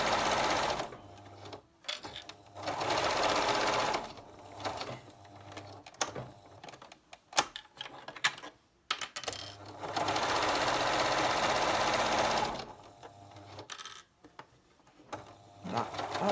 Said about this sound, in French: ma machine, quand j'appuie sur la pédale, l'aiguille descend